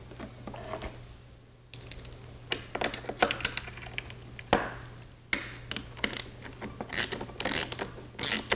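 Nut being tightened back onto a Pilates reformer wheel, giving scattered metallic ratchet-like clicks and short bursts at irregular intervals, fairly quiet over a steady low hum.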